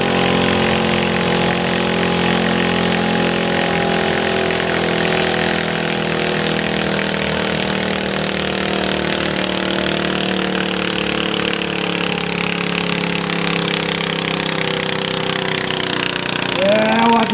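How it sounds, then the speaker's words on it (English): A 12 HP stock John Deere garden tractor engine screams at high RPM down a pulling track, a loud, steady, buzzing drone that barely wavers for the whole stretch. "You hear a lot more RPM as he comes down the track."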